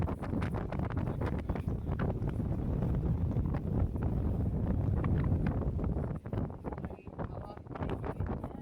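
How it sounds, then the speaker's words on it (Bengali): A strong sea breeze on the coast at Digha roars steadily across the microphone, loud and blustery, with a faint voice beneath it. "এটাই হাওয়া, সমুদ্রের হাওয়া।"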